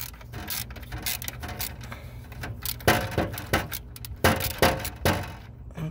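A 14 mm socket wrench works loose an alternator bolt on a 1991 Mitsubishi Montero, producing close, bursty metallic ratcheting clicks and clinks in short uneven runs with no talking.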